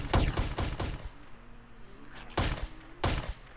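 Desert Eagle pistol shots in a VRChat zombie survival game: a quick burst of about four sharp, loud shots, then a pause, then two more single cracks.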